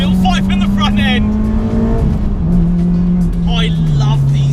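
A Honda Civic FD2 Type R's naturally aspirated engine hums in the cabin, its pitch stepping down as it blips through a downshift into second, with a voice talking over it.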